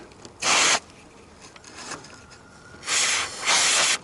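Short hissing bursts of silicone lubricant sprayed onto a car's fuel gauge assembly: one brief blast, then two longer sprays close together, fairly loud against a quiet background.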